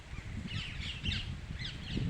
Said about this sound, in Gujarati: જો મિત્રો પોપટું જાય.